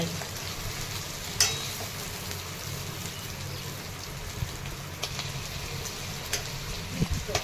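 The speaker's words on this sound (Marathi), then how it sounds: "छान अशा या मिरच्या आता परतून घेतलेल्या आहेत तेलामध्ये कमी गॅसवर" Stuffed green chillies, filled with coriander powder, garlic and crushed peanuts, fry gently in oil over a low flame, giving a steady, moderately loud sizzle with a few soft clicks and taps.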